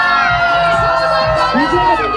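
A lively crowd at a Jalak Dikhlaja event in Alwar cheers, whoops and shouts together, loud and close, with children's high voices mixed into the continuous din.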